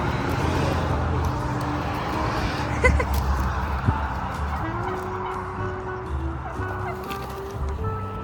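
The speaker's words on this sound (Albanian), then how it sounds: "Gjetëm gjelat e detit." Turkeys call and gobble close by in a noisy farmyard, while people talk over the birds.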